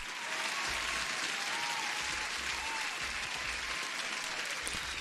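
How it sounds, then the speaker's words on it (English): Steady applause from a crowd, even and continuous throughout, heard at a moderate distance with no talk over it. "huge applause to Zoltán"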